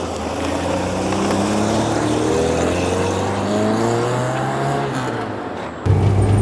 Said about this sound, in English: the Poissy engine is not really a masterpiece for the ears. It's a bit rough, a bit raucous